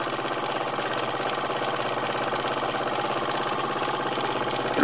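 Dereham Bowman M135 stationary engine from about 1928, running on air, holds a steady, smooth, rapid mid-pitched chugging beat at close range, even and unbroken with a slight rise at the very end.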